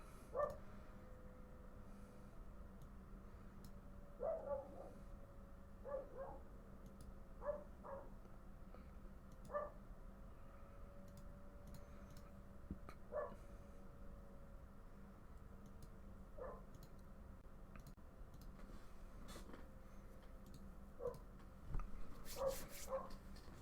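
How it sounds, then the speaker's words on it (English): A dog barks nearby in short, sharp bursts scattered irregularly over a quiet indoor room hum, with a few yips and a louder cluster of barks near the end; no voices. "Sorry about the barking dog. It's not my dog."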